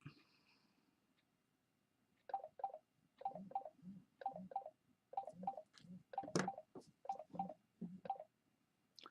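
A phone goes off with a ringtone or notification: a quiet start, then a quick run of repeated melodic chirps in a steady rhythm. The electronic tones are fairly faint and play without anyone talking.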